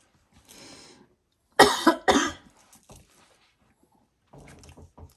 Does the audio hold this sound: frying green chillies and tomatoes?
no